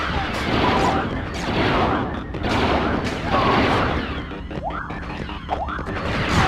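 Blaster gunfire from Star Wars Battlefront II on PS2, rapid overlapping laser bolts with whooping sweeps and zips during a busy firefight, loud and continuous with explosive bursts mixed in.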